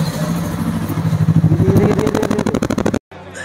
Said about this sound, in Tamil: இப்போ வண்டி நம்ம ஸ்டார்ட் பண்ணி பார்த்துடலாம்.